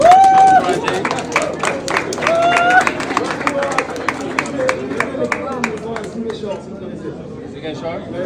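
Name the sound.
audience applause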